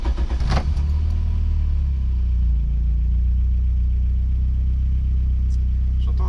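A freshly rebuilt engine, retuned with ignition timing pulled back, runs steadily at a loud, close idle with a deep continuous rumble after a brief rev at the start.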